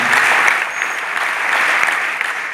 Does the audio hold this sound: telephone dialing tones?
no